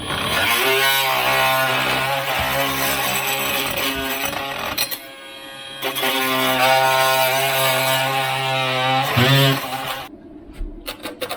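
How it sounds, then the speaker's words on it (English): A Bosch GOP 18 VEC oscillating multi-tool with a blade cuts beneath floor tile, a loud harsh buzzing whine with a grinding rasp, close up, pausing briefly midway before resuming and stopping. "This is the Bosch GOP 18 VEC multi-tool. I've put a blade on it."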